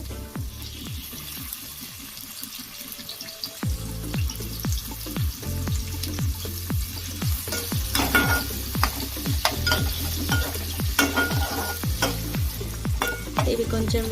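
Green chillies and tomatoes sizzle hard in a hot pan while a spoon scrapes and stirs in repeated strokes. The frying swells louder after the first few seconds and continues busily to the end.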